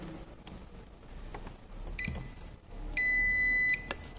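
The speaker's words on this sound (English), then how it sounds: "you can use the beeping of the multimeter" A multimeter gives a single sustained continuity beep while testing a car ignition switch, high and steady, lasting under a second amid faint clicks and handling noise.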